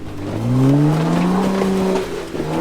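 A Jeep engine revving up, its rising tonal whine climbing and holding steady before easing off, loud and close for a couple of seconds with no talk.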